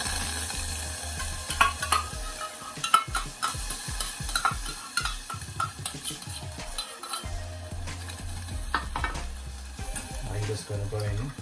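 One cup of barbecue sauce hits a preheated pot for BBQ pork chops, sizzling and bubbling up close while a utensil stirs and scrapes the pan in uneven strokes.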